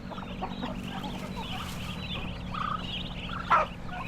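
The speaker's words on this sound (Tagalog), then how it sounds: "Ito po sila, yung mga dating sisiw." Young chickens moved into a new, larger pen, giving soft overlapping clucks and chirps from a small flock close by, with one brief louder call near the end over faint low hum and no speech.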